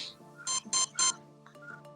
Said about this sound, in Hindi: लोएस्ट थ्रॉटल पे लाने के बाद हमारा जो मोटर है वो एक बीप का साउंड दिया है